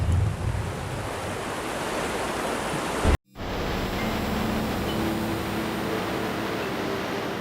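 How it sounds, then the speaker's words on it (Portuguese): The Mara River sends up a continuous, dense roar of rushing water, a broad steady wash that fills the whole clip with only a brief dropout partway through. "o rugido distante da água anuncia o próximo desafio"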